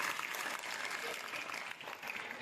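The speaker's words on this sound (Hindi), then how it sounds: "जोरदार ताली बजाइए" Steady applause from children at a school honouring ceremony for a teacher, a dense continuous clatter of many hands at moderate distance, with no talk over it.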